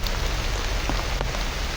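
Heavy rain falls in a constant dense patter on a nearby surface, unbroken and even in loudness, with nobody speaking.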